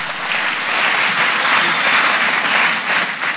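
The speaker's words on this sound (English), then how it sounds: "Clap for Master Jesus Christ" A church congregation claps in sustained, dense applause, loud and even throughout without pause.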